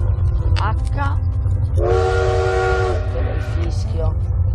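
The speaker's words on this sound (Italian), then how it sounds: "il fischio, si suona il clacson" Cab whistle of a locomotive in the Minecraft Rails of War mod, a single sustained harmonic blast of about a second rising over a continuous low engine rumble, with shorter tonal chirps before and after.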